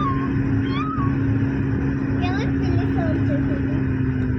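A cat meows a few times in short upward calls over a steady engine-like hum and background voices at Golconda Fort, Hyderabad.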